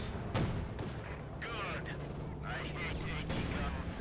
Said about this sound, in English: Flak Panzer opening up on the KV-8.